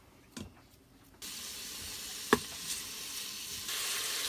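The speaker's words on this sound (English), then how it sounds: "it's sizzling. The grease is being released." Bacon sizzles in an Instant Pot for clam chowder, releasing its grease, a dense crackling hiss that starts abruptly and grows louder, with a sharp clink of a utensil partway through.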